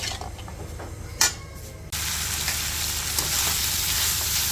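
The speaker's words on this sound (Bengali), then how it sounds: "এখন হচ্ছে মিশিয়ে ভাজা করুন।" Vegetables stir-fried in a pan for a home-cooked bhaji, a steady close sizzle with scraping stir sounds and one sharp clatter, the frying growing louder and denser partway through.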